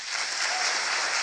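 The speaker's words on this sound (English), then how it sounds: "Applause for the answer." An audience at a debate claps after an answer in a short, steady burst of applause, with no voices over it.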